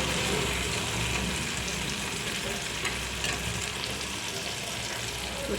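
Egg curry bubbling and sizzling in plenty of oil in a pan after the eggs were fried, a steady dense hiss that holds close and loud throughout without pause.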